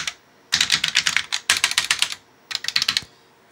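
Fingers type on the keyboard of a TRS-80 computer during a keyboard test, a close, crisp clatter of rapid keystrokes in three bursts separated by short pauses.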